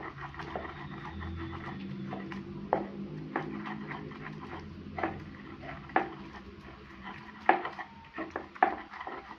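Repeated stone-on-stone pounding and scraping, irregular knocks with some louder thuds, close up, with a faint background hum.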